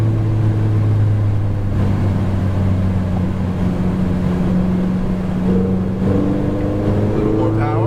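A Ferrari 488 GTB engine drones steadily at half throttle on a race track, a loud, continuous low note heard from inside the car, with the pitch sliding slightly as it shifts and pulls, and a voice talking underneath.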